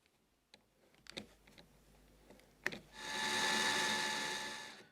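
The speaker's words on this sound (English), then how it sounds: "To work on the tension knob, I'm using my cordless drill setup again" After a few scattered clicks and taps, a cordless drill whirs up and spins steadily at high speed, loud and close, for the last couple of seconds, turning the tension knob of a Lie-Nielsen block plane.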